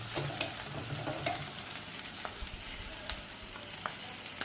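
Green chilies and chopped onion frying in oil in a pan for a new-potato fish curry, a steady soft sizzle with a few louder stirring clicks and scrapes.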